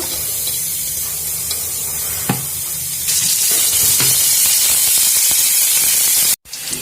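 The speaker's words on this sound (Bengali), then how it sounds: "আমি কড়াইতে এখন পেঁয়াজ দিয়ে দিচ্ছি।" Onions frying in oil in a kadai, a steady loud sizzle with occasional scrapes and clinks of a stirring utensil, running alone without talk.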